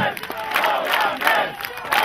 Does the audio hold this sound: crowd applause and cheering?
yes